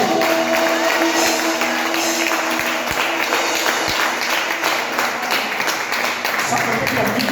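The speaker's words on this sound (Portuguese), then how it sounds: "Quem pode aplaudir o nome do Senhor Jesus?" A church congregation applauds in sustained, dense clapping mixed with some voices and shouts, loud and continuous throughout.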